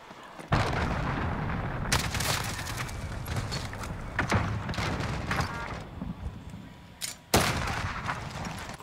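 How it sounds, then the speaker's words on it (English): A cruise missile strike in a Call of Duty video game arrives as a string of sharp, loud blasts and crackling impacts, with heavy booms around the start and near the end over a constant rumbling game din. "Allied cruise missile away."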